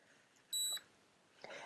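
A NuSkin Galvanic Spa facial device gives a single short, high electronic beep, clear and close in an otherwise quiet room, followed by a faint rustle.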